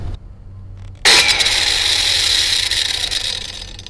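A diamond-tipped metal cut-off wheel bites into metal with a loud, steady, harsh grinding whine. It starts abruptly after about a second of low motor hum and holds for several seconds before easing slightly.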